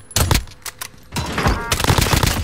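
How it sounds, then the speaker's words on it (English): Gunfire from Call of Duty: Modern Warfare erupts in loud, rapid bursts, short volleys separated by brief gaps and then a sustained stretch of shooting. "Under hostile fire."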